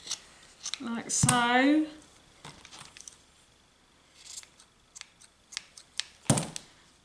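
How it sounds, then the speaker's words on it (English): Scissors trim the fibrous beard of a Christmas gnome decoration with a few crisp close snips and rustles, while a voice talks briefly partway through. "So I'm going to try and cut this as best as I can, like so"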